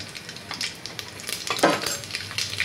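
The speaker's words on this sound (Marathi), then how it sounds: "तेल आपलं छान तापलेलं आहे. आता आपल्याला टाकायचं आहे 1 चमचा मोहरी, 1 चमचा जिरं" Mustard seeds and cumin dropped into hot oil for dal chikolya, crackling and sizzling up close with quick popping bursts and a louder spatter midway, no one talking.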